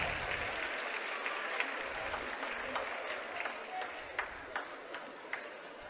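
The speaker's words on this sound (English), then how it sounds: "round of applause" A crowd at a girls' high school basketball game applauds steadily in a gym as an injured player sits up on the floor, broadband clapping throughout with a few sharper individual claps near the end and faint voices underneath.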